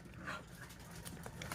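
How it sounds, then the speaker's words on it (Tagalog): A household dog pants softly close by at breakfast time, a steady run of quick breaths with faint whimpers, no talk over it. "our dogs only eat once a day"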